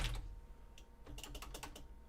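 Keys on a computer keyboard are tapped in a short, quick flurry of soft clicks, heard close and quiet over faint room hum, without any speech.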